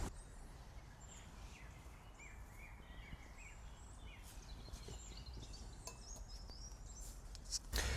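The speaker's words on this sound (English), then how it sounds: "listen to the birds" Birds sing outdoors at a camp cooking spot, scattered chirps and short whistled phrases, faint and somewhat distant over a steady hiss of background noise.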